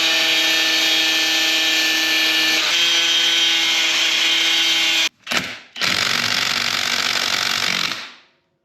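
A pneumatic impact wrench works at a stubborn nut on a 2001 Yamaha Raptor 660R ATV, one long loud sustained rattling run, then a short burst after a brief stop, ending abruptly with no talk.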